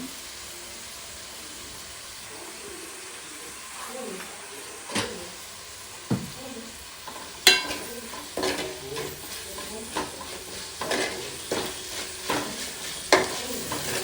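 Tomatoes with salt stir-fry in hot oil for a home chicken curry, a steady sizzle running throughout with scraping, clattering stirring strokes growing more frequent and louder in the second half; no one speaks.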